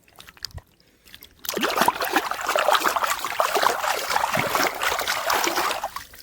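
A mud-covered fish is rinsed in river water in the Sundarbans. After a quiet start with a few soft splashes, continuous close sloshing and trickling water begins and then tapers off.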